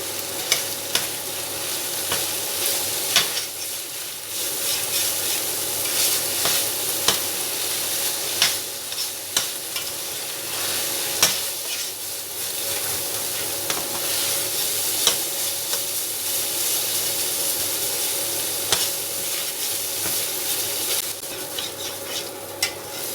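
Poppy seeds roast and sizzle steadily in hot ghee, with a spoon stirring and scraping the pan in a continuous close-up frying hiss and occasional clicks.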